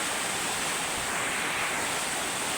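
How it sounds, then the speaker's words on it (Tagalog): Heavy rain pours down with water rushing around a house in a dense, constant roar that fills the whole moment, close and loud with no breaks. "Tingnan nyo naman kasi kung gaano kaulan."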